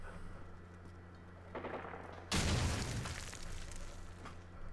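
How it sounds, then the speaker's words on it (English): Grenade blast in Call of Duty 4 Search and Destroy: one loud, sudden boom in the middle that rolls off into a rumbling tail, set against quiet game ambience. "I think he threw a grenade"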